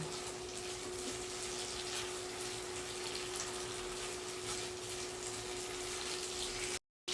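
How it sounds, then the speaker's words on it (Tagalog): Water pouring into a pan of Cajun-style seafood being cooked, a steady continuous rushing flow that is close and fairly loud for several seconds before cutting off abruptly, with no voices. "Lagyan natin ng kalahating basong tubig."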